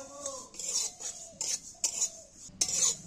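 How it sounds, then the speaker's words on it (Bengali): Sesame seeds dry-roasting in a pan over low heat are stirred with a utensil, giving about five short scraping, rattling strokes with brief pauses between them, close and alone. "দেখো তিলটা কত লাল লাল সুন্দর হয়ে ভাজা হয়েছে।"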